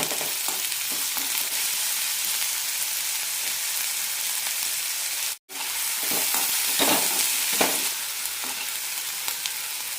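Sliced onions with salt and curry leaves sautéing in a pan for an onion chutney, a steady close sizzle with occasional stirring scrapes and one brief dropout midway.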